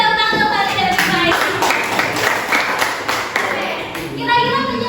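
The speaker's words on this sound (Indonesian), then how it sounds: "berikan tepuk tangan kepada Rifai" A classroom audience claps together in a dense burst of applause, with voices over it at the start and end.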